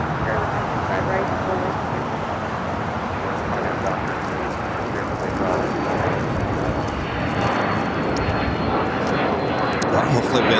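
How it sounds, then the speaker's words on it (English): A Finnair airliner takes off at LAX as a steady, broad engine roar rumbles on throughout, heard from some distance with a voice talking over it at times. "Finnair taking off on the north side."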